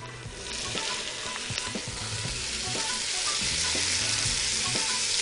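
Sautéed onions with peas and carrots frying in a pan, a loud steady sizzle broken by rhythmic scraping strokes of a stirring utensil, close and with no talking.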